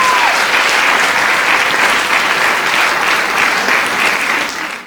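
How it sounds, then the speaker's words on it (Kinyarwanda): A church congregation claps for God in loud, sustained applause. The dense, even clapping lasts several seconds before cutting off abruptly. "Clap hands for God."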